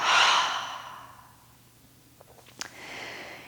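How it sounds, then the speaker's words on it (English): A slow, breathy exhale during yoga breath work fades out over about a second and a half. A few soft breath and sniff sounds follow, close and quiet with no talking. "Inhale, hold at the top. Exhale, let it go."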